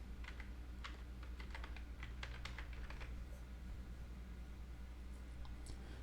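Quiet typing on a computer keyboard, a burst of light key taps over a low steady hum that then fades to near silence.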